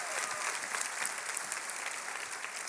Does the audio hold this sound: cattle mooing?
no